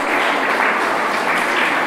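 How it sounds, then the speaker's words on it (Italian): Lecture audience applauding in a hall, a dense, steady wash of many hands clapping at close range for the whole short stretch, with no voices over it. "riporterò l'applauso alla classe"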